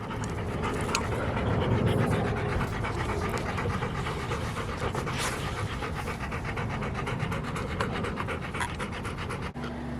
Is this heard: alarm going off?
no